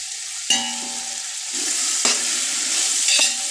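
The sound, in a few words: tomatoes sautéing in a pan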